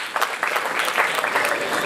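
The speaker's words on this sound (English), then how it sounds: "Please put your hands together and give them a round of applause." Applause from the audience at a national literary awards ceremony, brief and steady clapping from a crowd lasting under two seconds with no voices over it.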